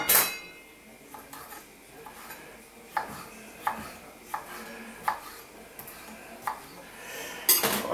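A knife taps steadily on a cutting board while mincing a chili pepper stem, about eight evenly spaced clicking chops, close and moderately loud over faint kitchen background.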